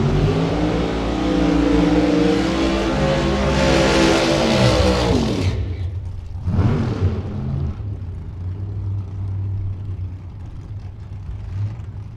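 Top Sportsman drag race cars at a Gainesville drag strip, a loud close engine roar building through a burnout and then cutting off abruptly, followed by a quick rev and lower idling engines with no talk.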